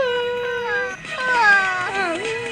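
A person imitates a baby crying, giving a wavering, whiny wail of rising and falling cries that runs continuously at close range.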